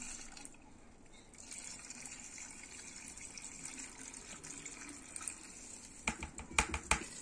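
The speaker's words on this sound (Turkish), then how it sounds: "Turşumuzun suyunu dökmeye başlıyoruz." Brine is poured into a jar of acur pickles as a steady, close stream of running liquid, ending in a few louder splashes and clinks.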